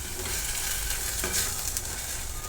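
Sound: egg curry masala roasting in oil

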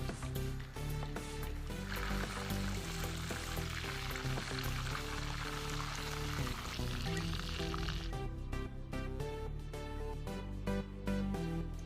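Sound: fish frying in oil

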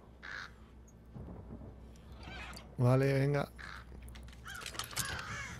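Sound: bird cawing in the video game Thief

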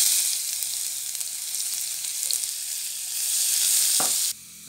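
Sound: chicken pieces frying in oil

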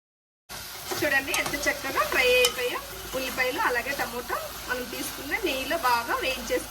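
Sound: tomato and spices frying in a pan

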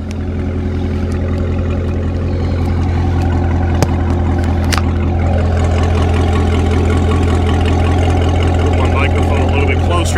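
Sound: Chevrolet C7 Corvette idling with Akrapovic exhaust

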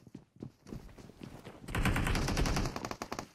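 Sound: gunfire from the video game PUBG Mobile

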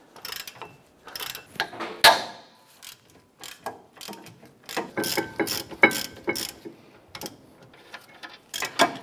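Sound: 17 mm socket and ratchet loosening brake caliper bracket bolts

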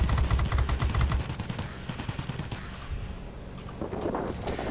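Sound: rear gunner turret firing at bomber, World of Warplanes video game

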